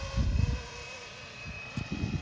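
A GPS-equipped RC helicopter flies with a faint, steady electric motor whine, broken by low gusty rumbles at the start and end.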